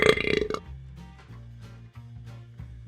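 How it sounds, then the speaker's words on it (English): Cartoonish burp from a storybook character in a kids' tale, a loud rough belch in the first half-second, followed by a low steady droning hum that carries on alone for a few seconds. "in many cultures, a burp is considered a compliment to the chef"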